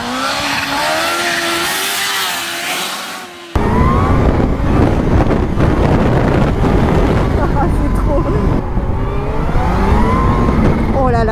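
A Kawasaki motorcycle accelerates hard, its engine note rising and swinging in pitch with loud wind buffeting, while someone speaks briefly over it.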